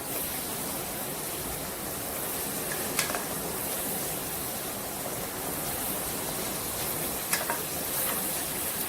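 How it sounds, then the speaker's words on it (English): Chicken mulligatawny curry ingredients frying in a pan, a steady broadband sizzle running unbroken throughout, with a couple of brief stir clicks and no talking. "Let this fry for about 2 minutes."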